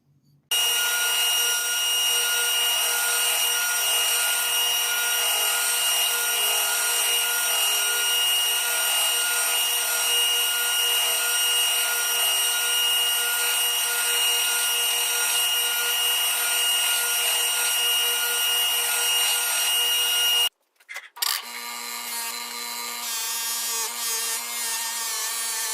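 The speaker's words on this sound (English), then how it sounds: "now I'm going to use a sander and I'm going to polish this bevel down" A sander polishes the bevel of a handmade Japanese bunka knife, a loud continuous whine holding steady for about twenty seconds, cutting out briefly, then starting up again.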